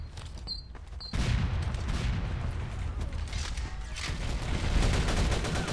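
Rapid gunfire bursts from the online Counter-Strike-style shooter Rush Team, dense and continuous after the first second, with sustained loud volleys and no pauses, no voices over it.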